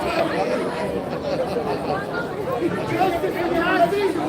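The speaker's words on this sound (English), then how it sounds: "Look at the crowd." A dense crowd of people chatters all around in a continuous, fairly loud babble of overlapping voices, with no single speaker standing out.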